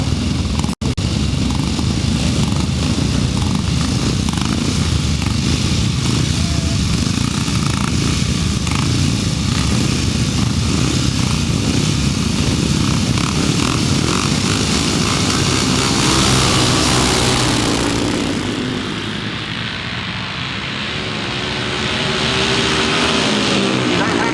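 Grasstrack motorcycles roar in the 375 Open final, a loud continuous pack of engines revving and droning at close range before fading briefly, with a commentator talking over the noise.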